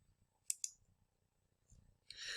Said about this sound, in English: So I'm just going to click import now.